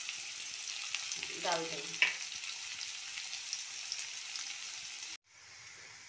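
Onions hit hot oil in a pan for poha, starting a soft, steady sizzle after a brief stirring clatter, with a short spoken phrase heard quietly over it.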